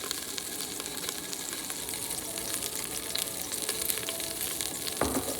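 Olive oil sizzling and crackling steadily in a hot pan just after meat has been seared, a dense close frying hiss with a brief clatter near the end.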